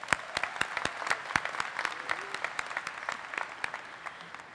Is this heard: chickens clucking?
no